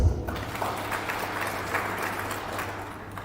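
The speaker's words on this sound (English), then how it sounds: "A round of applause for that" An audience at an emergency centre meeting on transboundary animal diseases gives a round of applause, a muffled, even patter of clapping over a low room hum, holding steady and easing slightly toward the end.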